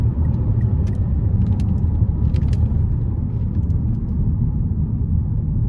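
A 2011 Mazda CX-9 AWD with a 3.7 V6 and 99,000 miles, heard from inside while driving, a steady low rumbling drone of engine and road noise with faint rattles above it, constant and fairly loud.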